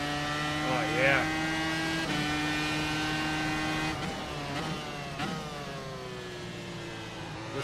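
A race car engine in the iRacing simulator screams steadily at high revs, pitch shifting with gear changes, with a voice talking over it.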